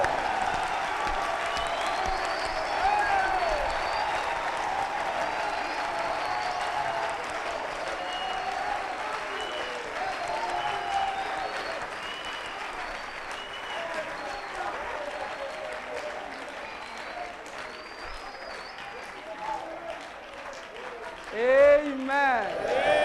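A church congregation applauds steadily, dense and sustained clapping from a large crowd that fills the room for over twenty seconds, with a few voices rising near the end.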